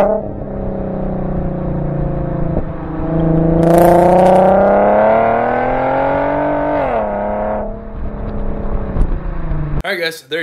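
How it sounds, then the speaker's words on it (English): An Infiniti Q50 with an upgraded exhaust drones steadily while driving, then revs up into a swelling engine note before dropping back, loud and close from inside the car. "that's the rev match I'm talking about"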